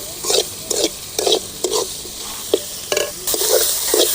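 Food, including tomatoes, sautéing in a hot pan for manathakkali (black nightshade) fried rice, a steady sizzle broken by repeated scraping stirs in an uneven rhythm, close and fairly loud.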